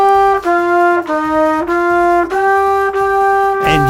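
A woodwind or brass instrument sustains a steady, in-tune note with clean, stable harmonics, rearticulated about five times in even phrases, played alone and close.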